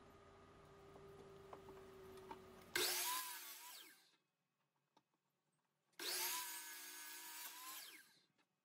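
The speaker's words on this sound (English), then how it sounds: "I'm just going to chop them up into manageable lengths here on the chop saw." Chop saw slicing wet wood blanks into shorter lengths: two loud bursts, each about a second and a half, with a high whine that drops as the blade bites, separated by quiet gaps, close and alone.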